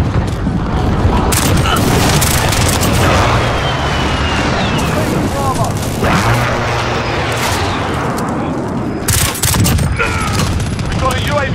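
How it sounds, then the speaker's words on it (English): Precision airstrike explosions in Call of Duty Modern Warfare: a dense barrage of heavy booms and gunfire crackle rolling on almost without pause, loud and close, with faint radio chatter underneath. "Be advised, friendly precision airstrike inbound."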